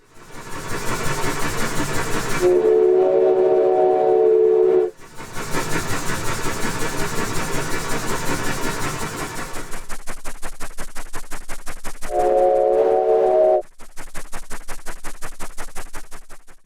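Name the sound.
simulated steam engine without reverb filter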